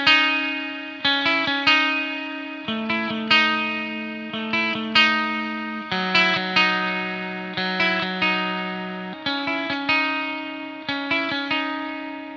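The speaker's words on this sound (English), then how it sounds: "I would probably put the space reverb with the clean." Clean electric guitar through the space reverb of a McRocklin PolyChromeDSP, playing a steady run of plucked notes and chords whose tails ring out into a wide, shimmering wash, loud and alone with no voices.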